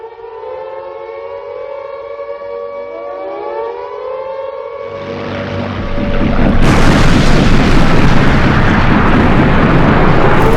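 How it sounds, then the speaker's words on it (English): A loud civil defense siren wails with rising and falling tones, then a heavy roaring rumble swells up and dominates, growing louder toward the end. "The sound of the siren, the way it affects me."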